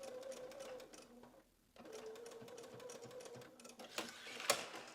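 A sewing machine running a blind stitch foot along quilt binding, a steady fast mechanical whir and ticking that briefly stops, then resumes, quiet and close, with a sharp click near the end.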